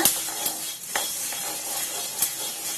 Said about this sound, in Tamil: பாருங்க, எல்லாம் பட்டு பட்டுன்னு சவுண்டு வரும்போது கொஞ்சம் வாசம் வரும், மிளகு வாசனை